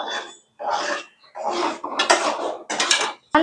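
Paneer curry with garam masala is stirred in a pan, giving repeated scraping and clinking bursts of a utensil against metal in short separated strokes, close and clear.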